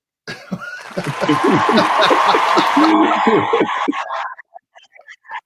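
A comedy club audience bursts into applause mixed with laughter and whoops, a dense, loud wash lasting about three seconds before fading into scattered claps.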